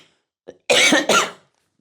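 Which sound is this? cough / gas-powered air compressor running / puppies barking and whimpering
cough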